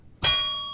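A single bright bell strike, used as a show's signal, rings out sharply and then sustains with a long, slowly fading metallic ring; no one talks over it.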